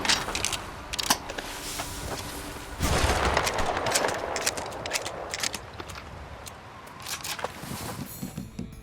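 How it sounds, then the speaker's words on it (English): Weapon reloading in the video games Resident Evil Village and Red Dead Redemption 2, a close series of crisp metallic clicks, snaps and clacks in irregular bursts, with a brief louder rattle partway through. "Here at the intermission, I offer you reloading ASMR."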